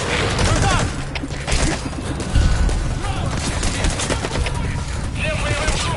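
Loud unsuppressed weapon fire in a shooter game, dense overlapping bursts and sharp cracks like a fusillade, mixed with shouted voices and battle chaos throughout.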